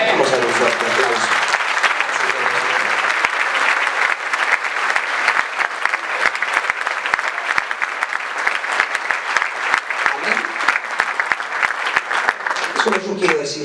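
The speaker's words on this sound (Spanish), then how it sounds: "Vamos a dar un fuerte aplauso." A church crowd gathered at the obelisk applauds loudly and continuously for over ten seconds, a dense roar of clapping with a few voices calling out underneath.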